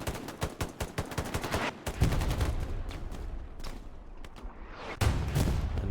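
Artillery and small-arms fire in a large multiplayer war video game battle at Carentan: rapid rattling gunfire bursts, then heavy booming impacts at two points, loud and dense with no talking.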